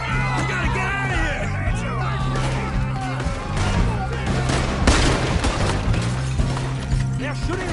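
Gunshots in Red Dead Redemption 2 crack over a busy, chaotic scene, with scattered shots, crashing and yelling voices under dramatic music.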